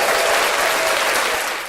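A short, loud burst of full crowd applause, dense and even throughout, with no voices.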